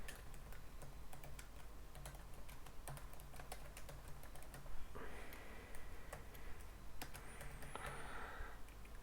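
Steady, rapid typing on a computer keyboard while entering Java code, a continuous stream of light clicks close up over a faint hum, with no talking.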